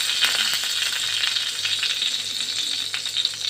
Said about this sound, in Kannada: ಫ್ರೈ ಮಾಡ್ಕೊತಾ ಇದ್ದೀನಿ ಇದೇ ಎಣ್ಣೆ ಒಳಗೆ